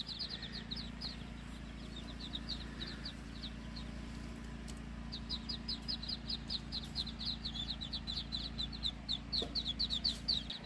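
Young quail and other small birds chirp in rapid high trills inside a greenhouse-style hut, fairly faint over a steady low hum, with a busier chorus in the second half and no talk.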